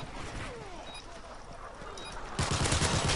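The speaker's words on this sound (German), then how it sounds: "Schieße." Rapid automatic gunfire in Call of Duty: Modern Warfare 3, crackling bursts under a player's talk, growing denser and louder in the last second.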